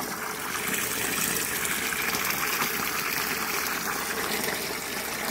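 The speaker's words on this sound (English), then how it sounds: "Filling up the drums, peeps." River water gushes steadily into drums being filled for irrigating pak choy and lettuce outdoors in Jamaica, a continuous loud broadband rush with no break and no voices.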